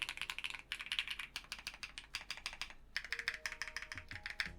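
Quick, crisp typing on a Cidoo QK61 keyboard with Pearl White linear switches, a dense run of light, poppy clacks in bursts with a brief pause midway, fairly close and alone.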